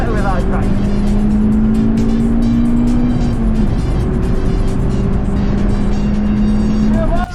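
Car on a sprint run at the Curborough sprint course, engine loud and close, revving hard with pitch rising and shifting through gears, tyre noise, and a commentator talking over it.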